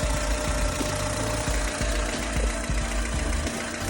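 A Honda engine fresh from new spark plugs and a plug wire set runs at a steady idle, a continuous low rumble with faint irregular knocks, close up and alone with no voices.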